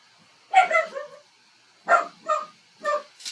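A dog barks three or four times from close by, short sharp yaps separated by brief pauses in an otherwise quiet room.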